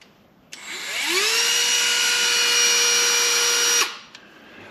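A Dremel rotary tool spins up with a rising whine, holds a loud, steady high-pitched drone for about three seconds close by, then winds down.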